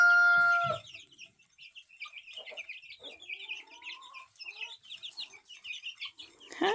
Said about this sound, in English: Do I need to go outside and check on my chickens?